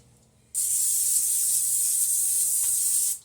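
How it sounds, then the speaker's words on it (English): Cooking spray hisses from a can in one steady burst lasting a few seconds, close and bright, then cuts off. "Get you some cooking spray"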